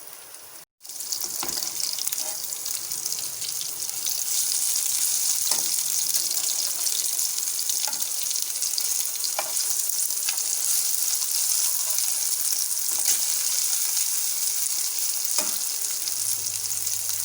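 White snapper fish frying in coconut oil gives a steady, bright sizzle that stays constant and close, with a few faint clicks and scrapes from the pan.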